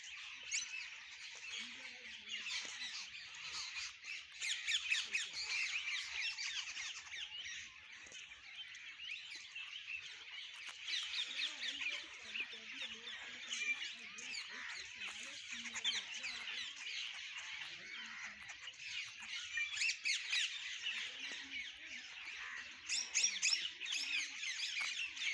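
Parrots and other birds squawk and chatter continuously in an outdoor setting at Vanshivat in Mathura, a steady dense chorus of overlapping calls at moderate distance, with faint voices now and then beneath.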